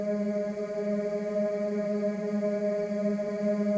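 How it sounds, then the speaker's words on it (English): A steady vocal ambience pad from a tropical and chill house sample pack holds a sustained, airy choral tone at moderate level throughout, with no spoken words. "Or this kind of vocal ambience."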